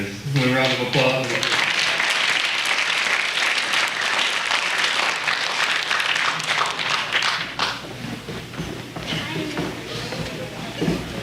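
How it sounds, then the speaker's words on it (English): Sustained audience applause at a fall sports awards program, a dense, loud wash of many hands clapping near and far for about eleven seconds, with cheering voices mixed in and fading slightly toward the end. "so if you guys want a round of applause."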